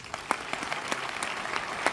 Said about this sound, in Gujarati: અમારા રિંકુ મેડમ માટે જોરદાર તાળીઓ થઈ જાય